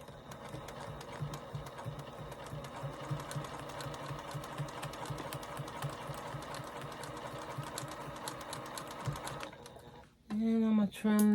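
Sewing machine stitching through a quilted paper postcard, a fast steady mechanical needle chatter that runs nearby for about ten seconds, then stops as a voice begins speaking.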